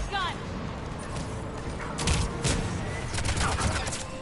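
An enemy mountain gun fires in the sci-fi shooter Mass Effect 3, a series of heavy bursts and booms in the middle of the clip amid chaotic battle noise, with voices shouting over the fighting.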